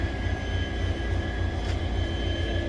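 An Indian Railways diesel locomotive idles close by, a steady deep rumble with a constant mechanical hum running unbroken throughout, with no voices.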